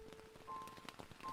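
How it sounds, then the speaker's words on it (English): Soft rain patters steadily in the video game Gensou Manège, a faint, even spray of drops with a few brief tonal game sounds above it. "Man, it's raining."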